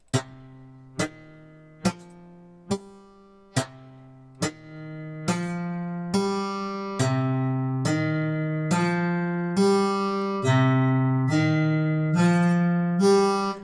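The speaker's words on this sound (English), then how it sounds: "that actually removes the attack and the pick sound there, and you get just the string sound" A series of plucked guitar notes repeats at a steady pace, the early ones short and clicky, the later ones smoother sustained string tones without a sharp pick attack.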